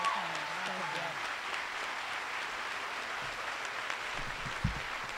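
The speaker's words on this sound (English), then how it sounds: "Join me in a big round of applause for Ambassador Farah Pandith." Outdoor crowd applause at a college class day ceremony for a commencement alumni speaker, sustained even clapping with a voice briefly audible at the start.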